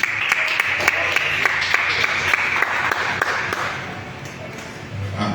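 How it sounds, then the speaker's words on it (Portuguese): A church congregation claps together in a dense, steady round of applause that fades slightly toward the end, with some voices mixed in. "Aplauda o Senhor mais uma vez."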